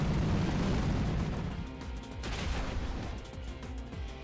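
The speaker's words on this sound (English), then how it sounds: "Come and touch me with that explosion." A Pokémon Explosion move from Pokémon X & Y bursts with a broad, noisy blast that fades over a couple of seconds, followed by a faint second swell and game sounds.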